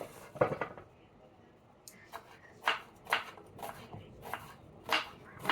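Onions being chopped with a knife on a board in a home kitchen while cooking a Bihari gram-flour curry, a series of sharp, separate close knocks in an uneven rhythm after some brief early clatter.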